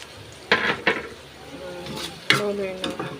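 Onion sautéing in a pan while making carbonara, with a few soft stirring scrapes and a low sizzle close by, brief and without talk.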